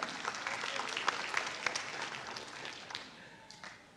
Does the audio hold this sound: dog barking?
no